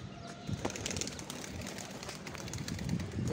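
Freshly released pigeons take off and circle, a steady wash of wing flapping with faint scattered cooing throughout, fairly continuous and moderately loud without talk.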